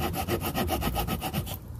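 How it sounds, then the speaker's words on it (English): A small folding hiking saw cuts through wood with quick, even back-and-forth strokes, about a dozen of them, close and clear, before the sawing stops just before the end. "You could even saw down small trees"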